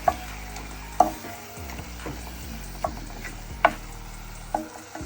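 Chopped tomatoes being stirred into quesadilla filling in a pan, with a steady low sizzle and spatula scrapes and clacks against the pan at irregular intervals, close and alone with no talking.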